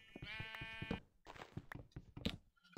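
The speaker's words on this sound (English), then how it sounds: "Sheep! Camouflage sheep!" A sheep in the snowy world of the video game Minecraft gives a clear, close bleat, followed by a few soft thuds and footstep-like taps in an otherwise quiet scene.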